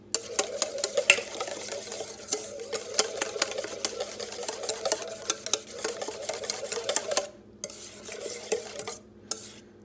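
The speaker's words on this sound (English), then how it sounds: "Mix it." A spoon mixes sauce in a small container, giving rapid, close, rhythmic scraping and clinking strokes that keep on steadily, then slow with brief pauses near the end, with no speech.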